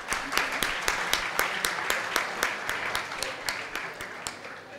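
A modest audience at an innovation and entrepreneurship panel discussion applauds during a felicitation. Steady, even clapping continues through the whole stretch at moderate volume, with individual claps clearly audible within the patter.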